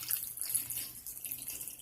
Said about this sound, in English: I'm going to add some water into the pot now that it's all braised up really